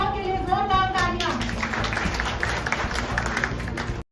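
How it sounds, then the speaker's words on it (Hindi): Audience applause for women receiving Beti Foundation excellence awards at a ceremony in India, a sustained dense patter of clapping from a crowd that follows a brief voice at the start. "तो इन महिलाओं के लिए जोरदार तालियां।"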